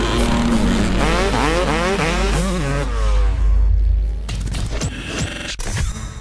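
A Kawasaki KX 250F motocross bike, a 2021 model, revs loudly and close, its engine note rising and falling in waves before easing into a rough idle with sharp bursts.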